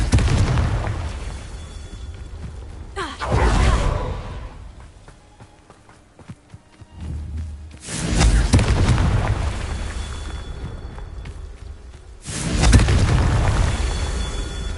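Confringo explosive spell in Hogwarts Legacy, three loud booming blasts spaced a few seconds apart, each trailing into rumble, with quieter game sounds between.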